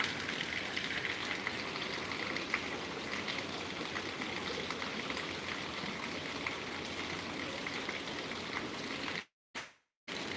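Steady rain falls in Noakhali, Bangladesh, in a dense, even broadband hiss of water on surfaces that stays constant throughout and cuts out briefly near the end. No voices are heard.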